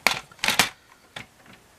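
A paper guillotine (massicot) slicing paper, heard as a few sharp, close crunching chops: two quick cuts in succession, then a softer single cut, each with a brief rustle and clack.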